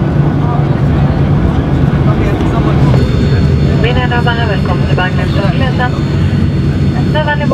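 Steady, loud roar of a jet engine filling a Norwegian airliner cabin, with voices talking intermittently over the constant drone.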